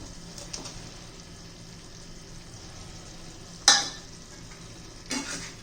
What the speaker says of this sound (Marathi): आता आपली अंडी घालून घेऊ